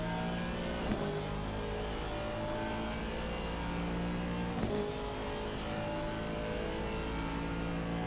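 Race car engine in Assetto Corsa on a flying qualifying lap at Paul Ricard, droning steadily and loudly at high revs with two brief gear-shift dips, no talk over it.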